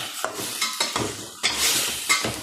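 Crabs stirred in a hot pan, repeated scraping and clattering strokes of a utensil over a sizzling background, close and fairly loud in an irregular rhythm.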